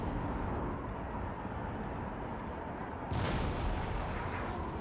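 A sustained roar of battlefield noise in Napoleon: Total War, broken by a single loud, sharp artillery boom near the end that rings out above the steady rumble.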